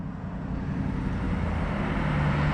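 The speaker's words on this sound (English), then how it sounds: "got helicopters over there, helicopters over here." Helicopters drone overhead as a steady, broad rumble that grows slightly louder, with no voices.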